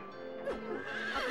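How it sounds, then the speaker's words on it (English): Horses whinny in the video game Silent Hill 3, a drawn-out neigh rising and falling over a steady low game hum, followed by a second fainter call, moderately loud with no talk over it. "We gotta stop the horses."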